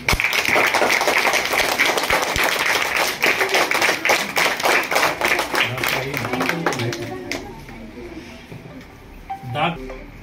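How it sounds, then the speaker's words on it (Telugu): Schoolchildren at a government school clap together in a burst of rapid, close hand claps that gradually thin out and fade, followed by a few scattered claps and some talking. "అందరూ ఒకసారి చప్పట్లు కొట్టండి."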